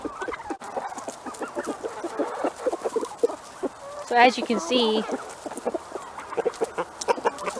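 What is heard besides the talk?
turkeys and chickens clucking, waiting for a treat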